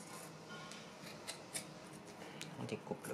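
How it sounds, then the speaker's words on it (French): Scissors snip through a men's shirt to remove the collar, giving close, sharp cuts and blade clicks at an uneven pace with fabric rustling between them. "je vais couper le col"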